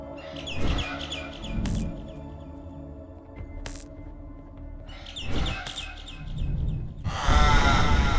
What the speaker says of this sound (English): Get the bird to dive one more time.